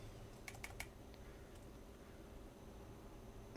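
Quiet keystrokes on a computer keyboard during work in design software: a quick burst of three or four crisp clicks, then a couple of isolated taps over a soft background hum, with no talking.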